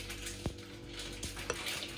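Grated potato pancakes made with egg yolk and salt sizzle steadily in a frying pan, with a soft continuous frying hiss and a few light clinks of a utensil against the pan.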